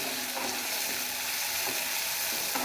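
Slices of sweet pumpkin frying in a pan make a dense, continuous sizzle with faint scraping of stirring, close and steady, with no voices.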